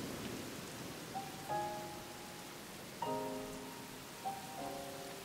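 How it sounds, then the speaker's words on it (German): Soft, steady rain falls in the video game Rain, a faint even hiss under gentle, tonal musical notes that chime at intervals. "Mit dem schwächeren Regen wurde alles ruhig"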